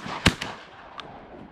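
A single sharp shotgun blast during public-land duck hunting at San Jacinto in Southern California, close and loud, followed by a fainter pop and a brief distant crack in open outdoor air.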